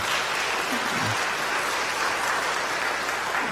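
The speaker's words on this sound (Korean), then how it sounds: "여러분들 환영의 박수 부탁드립니다." A Korean church congregation applauds in welcome for visiting members during a Sunday service, a steady, even wash of clapping filling the whole stretch, with no speech over it.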